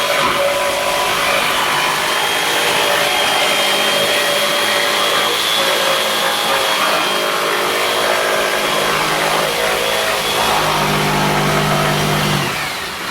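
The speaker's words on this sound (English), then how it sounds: "we can go ahead and take the jigsaw. You're going to just start at an edge and work your way into the curve" Electric jigsaw cutting a curve into clamped wood for a seat cushion project, a steady loud buzzing motor whine with shifting pitch as the blade feeds through, running continuously and winding down near the end.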